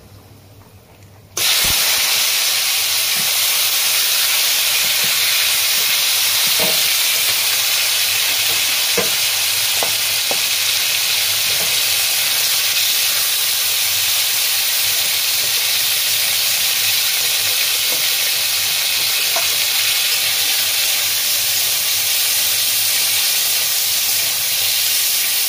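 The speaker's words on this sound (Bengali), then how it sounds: "প্রথমেই মাংসটা আমি ফ্রাই করে" Chicken meat fries in hot oil with turmeric in a wok, a loud, steady sizzling hiss that bursts in after a brief quiet moment, with occasional soft stirring clicks.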